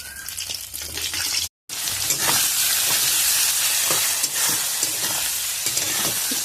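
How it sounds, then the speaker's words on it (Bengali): Onion and chilli frying in a pan after fish has been fried, a steady loud sizzle with stirring scrapes, briefly cut off by a short gap and then continuing alone. "পেঁয়াজ লঙ্কা এভাবে করে ভেজে নেব।"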